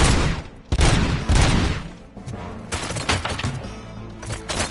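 A volley of gunfire erupts on an order to fire, with loud overlapping shots and booming bursts at close range, repeating in irregular clusters.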